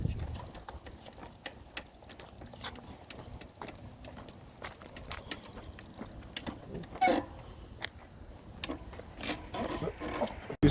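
A creaking bottom bracket on a hybrid bike while pedalling: faint, repeated rubbing creaks and ticks recur through a quiet room, with no talking.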